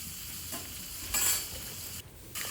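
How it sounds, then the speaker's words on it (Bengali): Pointed gourd pieces are stirred and sautéed in a pan over low-to-medium gas, a soft, steady sizzle broken by a few quiet spatula scrapes, close and without voices. "দিয়ে ভালো করে নেড়ে চেড়ে পটলগুলোকে কষিয়ে নিচ্ছি"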